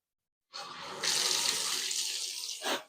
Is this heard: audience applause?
no